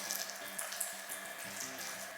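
Water runs steadily from a tap as it is measured out for a cupcake mix, a close, continuous splashing stream with faint clinks underneath.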